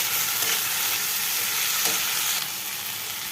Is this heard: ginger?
yes